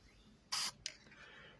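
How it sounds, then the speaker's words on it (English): A spray paint can hisses in one short, close burst, followed by a brief second puff, applied to the inside of a ring on a painted galaxy piece. "We're going to spray to the inside of this ring here"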